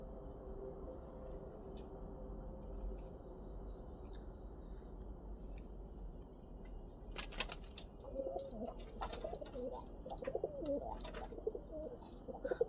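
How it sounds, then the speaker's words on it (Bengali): Pigeons kept at home coo softly in low, repeating calls over a steady faint high whine, with some scattered clatter and rustling later on. "আমার বাড়ির পায়রার একটা বেবি হয়েছে"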